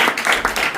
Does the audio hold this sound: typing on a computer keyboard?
no